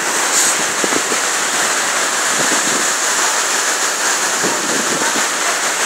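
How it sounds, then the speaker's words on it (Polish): A large waterfall on Leyte island in the Philippines roars as a steady, dense broadband rush with no breaks, loud and continuous throughout. "Jestem nad wodospadem, nie wiem jakim ale największym do tej pory"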